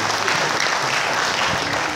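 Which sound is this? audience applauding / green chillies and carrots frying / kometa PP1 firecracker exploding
audience applauding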